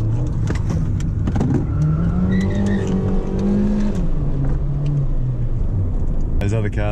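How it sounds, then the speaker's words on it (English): A 2008 Honda Jazz Sport driving around a roundabout, its engine note rising and falling steadily from inside the cabin with a loud constant road rumble, while someone talks over it. "we'll check out the handling around the roundabout"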